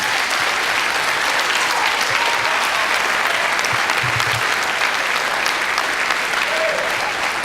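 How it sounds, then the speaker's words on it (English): An audience at a distinguished citizens event gives a sustained round of applause, dense and even throughout, with a few faint voices underneath. "Can we give one more round of applause for our distinguished citizens?"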